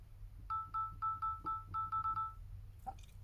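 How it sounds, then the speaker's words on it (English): A Samsung Galaxy S22 keypad beeps as numbers are typed, about ten short, clean dialing tones in an uneven run, fairly quiet and close, then a brief chime at the end with no talking. "how to turn off dialing keypad sounds in our Samsung S22"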